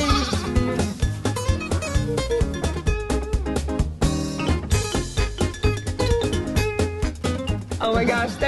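Week-old baby lambs bleat on a farm in spring, with repeated calls overlapping dense, loud background sound that carries through the whole stretch.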